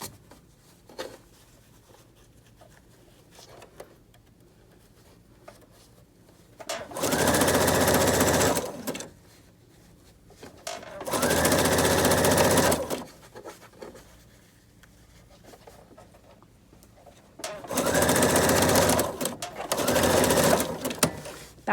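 Sewing machine stitching face mask fabric in three separate runs of steady, rapid mechanical whirring, each a couple of seconds long, with quiet pauses between them.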